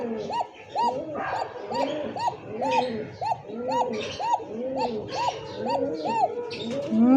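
A Coka pigeon, a pet breed kept in a loft, gives a run of about a dozen rhythmic, rising-and-falling coos, close and clear, over a faint background.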